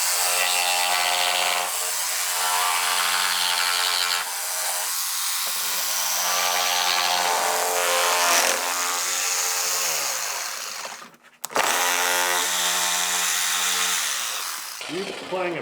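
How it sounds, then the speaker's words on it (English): A jigsaw cuts a scrap piece of cherry wood, a close, loud buzzing rasp with shifting pitch that runs in stretches, briefly stopping and restarting near the end. "Grab your jigsaw, that's all you're gonna need."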